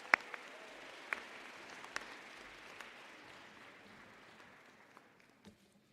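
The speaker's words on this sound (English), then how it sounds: "One more round of applause for the Johnson class." A closing-ceremony audience claps in a light, steady patter, with a few sharp louder claps near the start, gradually thinning and fading out toward the end.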